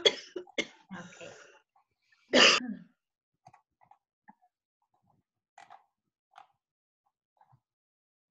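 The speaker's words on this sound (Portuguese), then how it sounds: "tenho que parar um pouco, um momento, vou ter que tossir" A few sharp coughs near the start, then a harder, throaty cough, followed by faint scattered small noises in a quiet room.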